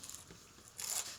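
A bite of lunch crunches close by, a short crisp burst of crackling chews standing out over faint background hiss in an otherwise quiet room.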